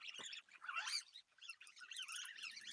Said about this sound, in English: What the hell's that freaking bird doing?